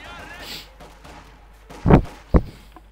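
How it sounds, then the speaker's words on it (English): Gunfire in Company of Heroes 2, a World War II strategy game: two sharp, loud shots about half a second apart stand out from a quieter bed of distant battle noise. "Shots continuing."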